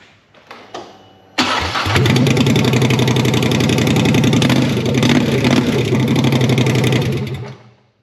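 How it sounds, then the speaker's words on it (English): Polaris Sportsman 850/1000 side-by-side engine running on open headers with no muffler: a few cranking clicks, then it catches and roars into a loud, raw, rapid-firing idle for several seconds before cutting off abruptly. "let's fire this thing up open headers. I'm curious to see how it sounds"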